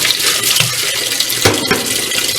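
Hot water runs steadily from a tap fed by a tankless water heater, a loud, close, continuous splashing rush with a couple of brief thuds partway through.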